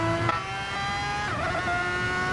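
Race car in Formula X racing at Circuit de Sainte Croix in a video game, braking from around 200 into a corner: a continuous loud engine whine that drops in pitch as it decelerates, close and with no talking.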